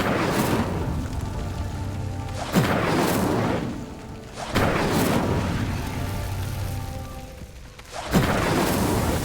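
Incendio fire spell cast in Hogwarts Legacy at pyres, three separate booming bursts, each followed by a roaring, crackling flare that fades before the next, set against a low rumbling background.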